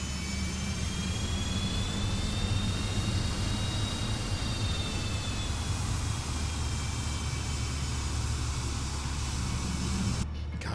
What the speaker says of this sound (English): the sounds on this airplane are so immersive